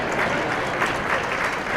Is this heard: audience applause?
yes